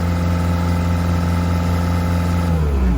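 Bobcat skid steer engine runs steadily at a constant loud drone with strong low harmonics, close by, while clearing land for a tiny house pad, then pitch dips slightly near the end.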